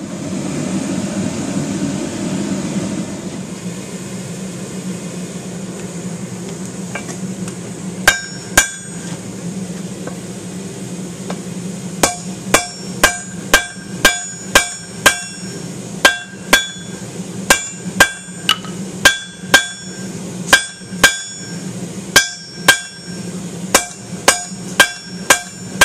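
A hammer strikes forge-welded steel on an anvil while a knife blade is drawn out, sharp ringing blows coming in irregular bursts over a steady low forge roar, close and loud.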